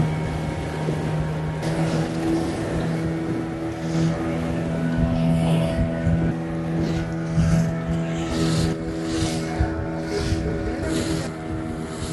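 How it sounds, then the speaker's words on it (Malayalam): A motorboat heads out into the Indian Ocean for evening deep-sea fishing, its engine droning steadily and close at hand with wind and water rushing around it. "ഇവിടുന്ന് ഈ ഒരു ബോട്ട് എടുത്തിട്ട് നമ്മൾ ഡീപ് സീ ഫിഷിങ്ങിന് പോവാണ്"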